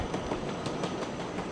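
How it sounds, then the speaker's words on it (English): A Nightjet night train rumbles steadily past at close range through a station in Nuremberg, a broad continuous roar with faint rhythmic clatter of wheels. "There's a night jet train."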